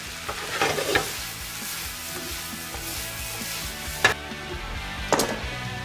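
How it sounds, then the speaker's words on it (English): Shrimp, sausage, onions and sweet potatoes fry together in a pan with olive oil, a steady sizzle punctuated by a few sharp utensil clanks and stirring scrapes. "Shrimp are cooking. Sausage is browning, onions are coming along"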